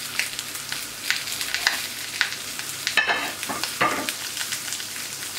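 Beef pieces sizzle on a hot plancha, with the largest cuts at the center, a steady loud frying hiss punctuated by scraping and stirring clicks, no talking.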